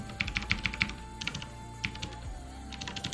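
Computer keyboard typing while coding: short bursts of quick, close keystrokes separated by brief pauses, fairly quiet, no voices.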